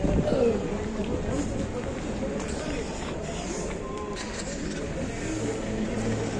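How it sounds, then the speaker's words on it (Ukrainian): Cars move through narrow streets in Mindelo, Cape Verde, their engines rumbling and passing close by under steady outdoor street noise, with a voice talking over them. "тут на цих вузеньких вуличках машиниці"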